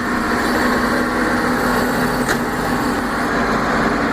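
A TM 1400 tractor's engine drones steadily and loudly at high speed while mowing, a constant, close, even hum throughout.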